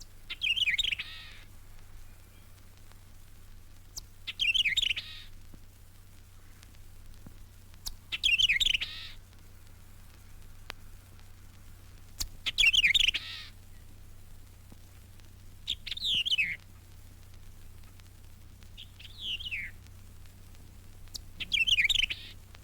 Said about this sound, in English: Most sanctuary visitors never see the white-eyed vireo, but it's busily searching out insects in the shrubbery and now and then singing its un-vireo-like song